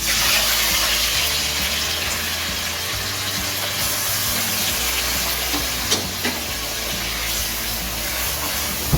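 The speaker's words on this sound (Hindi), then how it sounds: "ऑयल अच्छे से गर्म हो चुका है। अब हम इसमें प्याज जो कि हमने चॉप किया हुआ है इसमें हम ऐड करते हैं" Chopped onions dropped into hot oil for a simple pasta dish, frying with a steady, loud, hissing sizzle that stays even throughout with a few small pops.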